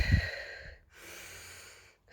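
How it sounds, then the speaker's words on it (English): A person takes deep breaths, audible as a soft breathy exhale followed by a longer, even inhale, close and quiet with no talking. "I'm going to take 3 deep breaths"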